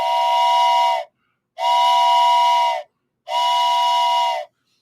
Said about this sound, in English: That's 3 long whistles, which if you Google it means the train is leaving the station.